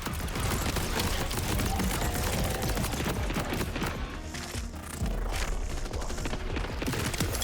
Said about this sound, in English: One of the cool things about the cannons is that they always kind of do like critical